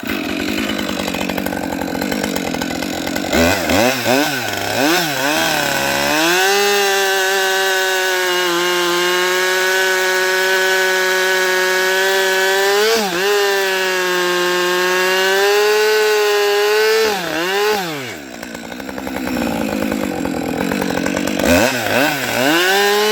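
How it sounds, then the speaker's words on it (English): Chainsaw cutting a large-diameter firewood log freehand, a loud, close, sustained engine whine that bogs and rises as it bites into the wood, with brief revving between cuts. "Now I'll cut on this bigger diameter log here a little bit, and see how well I can do with freehand on that."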